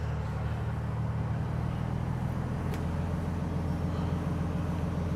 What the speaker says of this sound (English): So right now this vehicle is running.